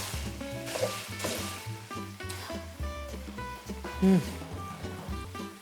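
Sausage browning in olive oil in a kitchen pan, a soft steady sizzle running under a voice talking throughout.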